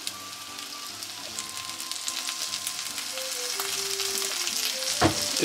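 Gyoza fry in sesame oil with a steady, close sizzle and crackle that grows a little louder, over faint background tones, with no talk.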